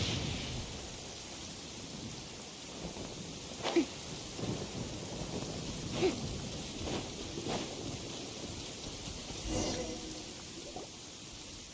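Continuous rainfall in Genshin Impact fills the scene with an even hiss, broken by a few soft thuds and splashes, moderately loud and with no talking.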